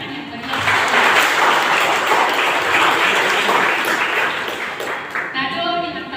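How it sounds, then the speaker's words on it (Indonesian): A crowd applauds steadily for several seconds at a new church building's inauguration, a dense wash of clapping that fades slightly toward the end. "Mari kita beri tepuk tangan yang meriah."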